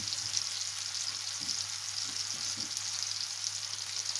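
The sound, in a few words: chopped onion frying in hot oil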